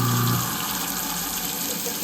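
Tap water runs into a kitchen sink to rinse it while a garbage disposal is switched on, a close, steady hiss and splash with a brief low hum at the start.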